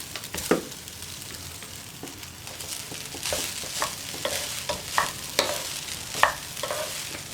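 A spatula stirs and scrapes vegetable fried rice in a pan, making repeated sharp scraping strokes over a soft, steady sizzle with no talking.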